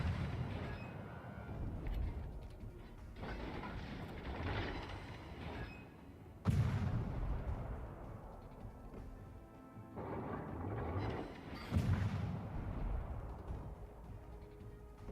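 Heavy naval guns boom in a warship battle video game, several deep blasts spaced a few seconds apart over a constant low rumble of engine and sea noise, with two sharper shots standing out.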